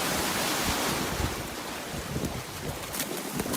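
Ocean surf breaking along a British Columbia coastline: a continuous broadband roar of waves with wind noise, steady and enveloping, with no voices.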